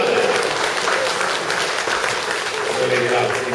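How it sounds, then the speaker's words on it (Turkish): A theatre audience applauds steadily and loudly at a Turkish theatre performance, with dense, continuous clapping throughout and voices mixed in. "Hadi bir alkışlayalım onu."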